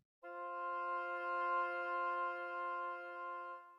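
Two notes sounded together as a musical fifth, an open, pure interval held steady and clear for several seconds after a brief silence, with no talking.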